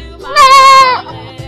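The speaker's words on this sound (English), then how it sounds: "Mountain goat." One loud, close bleat from a mountain goat, a wavering nasal cry held for about half a second before cutting off.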